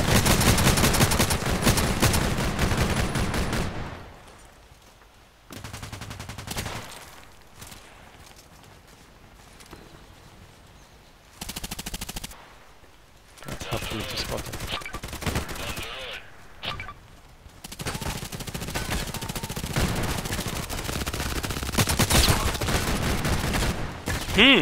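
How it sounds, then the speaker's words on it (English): Machine gun fire in the online shooter Contract Wars comes in loud sustained bursts separated by quieter stretches of footsteps and scattered shots, with dense rapid firing toward the end. "So here, actually, I should use the machine gun."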